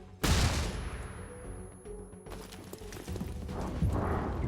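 A grenade detonates with a sudden loud blast in XCOM: Chimera Squad, followed by a decaying rumble, scattered clatter and a second swell of combat noise near the end.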